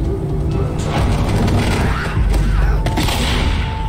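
Shotgun fire in the zombie video game Left 4 Dead, a dense, loud run of booming blasts and mechanical clatter, continuous and close throughout.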